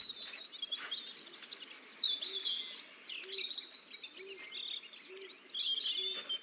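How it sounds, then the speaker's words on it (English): Robins chirp and tweet throughout a garden scene in the video game Botany Manor, with bright overlapping calls and a soft repeated cooing note underneath, steady and fairly close. "Oh, that's a lot of robins."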